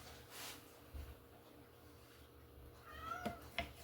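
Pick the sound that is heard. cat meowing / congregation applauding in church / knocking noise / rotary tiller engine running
cat meowing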